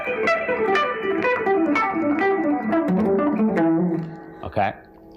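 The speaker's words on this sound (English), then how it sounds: "we're going to play it going backwards 5 notes at a time, and quickly it will sound like this" Electric guitar plays a pentatonic scale backwards in quick five-note groups, a fast cascade of sustained notes descending in pitch, close and clear, ending with a short burst of noise.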